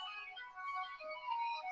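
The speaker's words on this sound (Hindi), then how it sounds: "जिसका भी फोन बज रहा है" A mobile phone ringtone plays during an online lecture, a thin melodic electronic tone sequence sounding faint and slightly distant over a quiet line.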